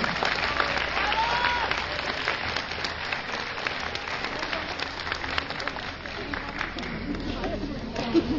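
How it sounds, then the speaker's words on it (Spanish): A large audience claps and applauds steadily and loudly at a Betaza community event after a paso doble piece is announced, with crowd chatter mixed in throughout. "Brindemos un fuerte aplauso."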